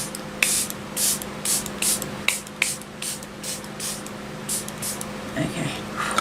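Makeup setting spray sprays in a rapid series of short, hissing bursts, close and crisp over a faint background hum, with a brief rustle of handling near the end.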